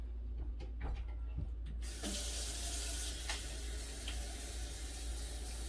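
A kitchen faucet is turned on partway through, releasing a loud, steady rush of running water into the sink after a few soft clicks and handling sounds, continuing to the end.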